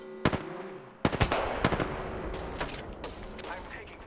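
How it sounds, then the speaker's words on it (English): Gunfire in the Apex Legends video game, sharp loud cracks in two quick bursts followed by scattered shots and impacts, with chatter underneath. "I'm taking fire."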